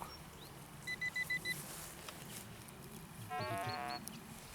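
A metal detector sounds in a football stadium, giving a short run of four evenly spaced beeps and then a longer warbling electronic tone, faint over steady outdoor background noise.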